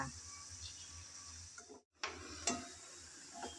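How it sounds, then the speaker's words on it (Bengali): Onions sizzle and fry in a pan while being stirred for Bengali kala bhuna, a steady close hiss broken by a short silent gap and a few louder scrapes of the spoon. "নেড়ে চেড়ে আমি ভালোভাবে বেজে নিলাম"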